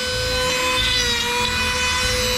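A chainsaw outlines details on a wood spirit carving, its engine whining steadily and close with a slight rough rasp as the chain bites the wood; no one speaks.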